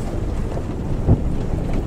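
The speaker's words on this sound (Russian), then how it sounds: "Ветер-то как гонит." Steady low wind rumble buffeting the microphone outdoors by roadside bushes in Russia, with a brief louder gust thump near the middle.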